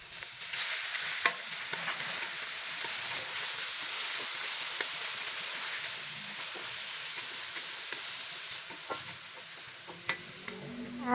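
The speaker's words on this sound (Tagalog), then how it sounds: "Yung sunod naman natin na igigisa ay ang pusit" Squid sautéing with onion and garlic in a hot pan, a steady broadband sizzle with occasional sharp clicks and scrapes of stirring, moderately close and continuous, with no talking.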